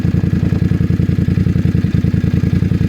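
Voge DS900X Black Knight adventure motorcycle, 895cc engine fitted with a Scorpion Red Power exhaust, idling close by with a steady, even low thrum of rapid regular exhaust pulses and no talk.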